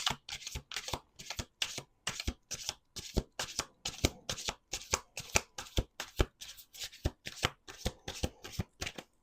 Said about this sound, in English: Let me do two more shuffles.